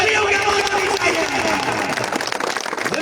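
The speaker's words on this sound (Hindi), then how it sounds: "बाबा क्रिकेट के लिए तालियां" A crowd applauds at a cricket final, dense clapping and cheering filling the space loudly, with voices mixed into the noise.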